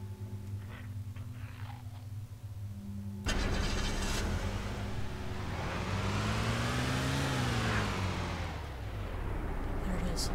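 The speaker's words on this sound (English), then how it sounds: "Another vehicle here." A vehicle engine in the video game DayZ starts abruptly and runs loud and close, its pitch rising and falling as it revs, with faint voices underneath.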